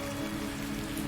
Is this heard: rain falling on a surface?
yes